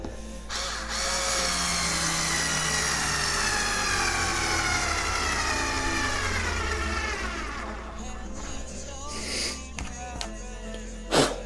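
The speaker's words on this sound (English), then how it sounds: "Electric screwdriver." An electric screwdriver drives screws into a jack plate while a pickup system is fitted to a homemade bowed guitar, a steady motor whine holding for several seconds, slowing, then stopping with a few clicks afterward.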